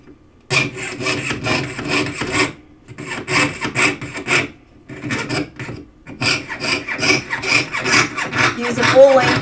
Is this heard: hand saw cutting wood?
yes